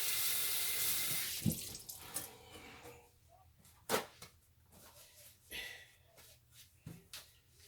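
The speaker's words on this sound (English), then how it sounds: "Rinse our hands off again." Kitchen tap water runs while hands are rinsed clean of oxtail seasoning, a soft continuous splash broken by a few brief louder gushes and drips, close by with no talking.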